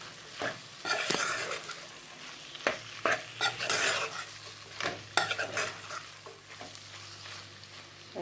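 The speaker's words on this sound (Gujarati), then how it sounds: "ચાલો, હવે ભીંડા આપણે મિક્સ કરી લેવાના છે." Okra being stirred as it cooks in a pan, with soft sizzling under intermittent scrapes and clinks of a spoon against metal, close but fairly quiet, with gaps between strokes.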